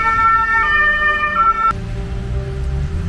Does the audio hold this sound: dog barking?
no